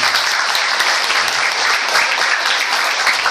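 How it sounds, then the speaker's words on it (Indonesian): A seated audience claps for their friends, loud and close, a thick, continuous patter of many hands with no pause. "tepuk tangan dong buat teman-teman"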